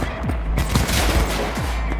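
Rapid gunfire in the video game Cyberpunk 2077, a dense stream of close, loud shots with sharp cracks and booms, continuous through the whole moment.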